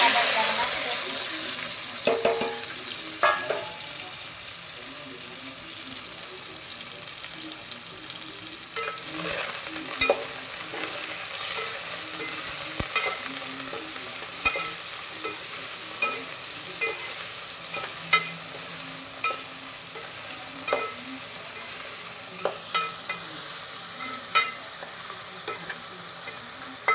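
Ridge gourd, tomato, coriander and potato sizzle and hiss in hot tempered oil while a spoon stirs and scrapes the pan in irregular knocks, steady and close throughout.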